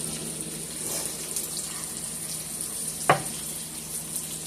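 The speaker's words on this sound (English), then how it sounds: "I'll just go ahead and add my diced tomatoes" Diced tomatoes go into a sizzling pan of red snapper, giving a steady soft frying hiss with a brief sharp clatter partway through, quiet and close.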